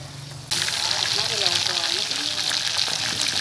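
Chunks of pre-boiled beef fry in a pot, a loud steady sizzle that bursts in suddenly and crackles on, with faint stirring beneath.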